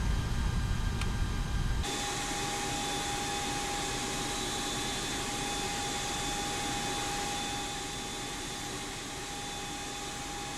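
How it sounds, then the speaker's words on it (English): An Airbus A330 engine number 2 spools up in a flight simulator, a steady broadband whine and roar with a sustained high tone, holding constant and easing slightly toward the end with no talk. "All right, start engine number 2."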